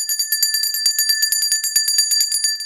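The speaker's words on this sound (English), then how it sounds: "It is tradition on this podcast that whenever there is a sweep, the bells must be tolled" A small bell rings rapidly over and over in a bright, close, continuous jangle, tolled to celebrate a baseball series sweep.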